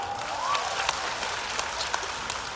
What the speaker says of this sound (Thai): ปรบมือให้กับท่านประธานของเราครับ